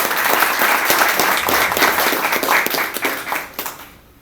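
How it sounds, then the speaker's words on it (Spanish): An audience at a cybercrime law conference gives warm, steady applause to welcome a guest, dense clapping from many hands that holds strong before fading out toward the end. "pido un fuerte y caluroso aplauso"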